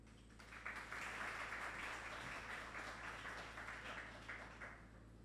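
Applause from a panel audience at a Café Philo talk on Haiti's Petrocaribe affair, a steady, fairly faint wash of clapping lasting several seconds over a low room hum.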